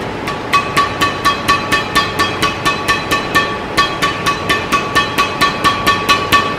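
Sharp, dry string pings from a Maxbolt Thunderbolt badminton racket strung with RS Power Good 66 at 27 lbs mains and 29 lbs crosses, struck in a steady rapid series of about twenty taps, close and crisp with no talk.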